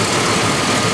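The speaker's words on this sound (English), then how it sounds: "Engine is very quiet." Black Hummer H2 engine idling, a steady dense rumble with even broadband texture and no revving, close and continuous for the whole moment.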